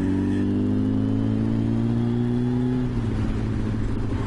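A 1989 Kawasaki ZXR750 motorcycle engine holds a loud, steady mid-range drone close by, with a slight pitch drop near the end as it eases off, no voices.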